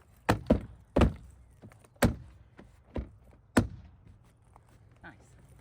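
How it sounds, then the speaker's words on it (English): Sharp thuds and knocks as a Jeep Wrangler door panel is banged back into place, about seven hits spaced irregularly over a few seconds, some louder than others, with quieter rustling between. "right now we need to bang all this back together, back closed."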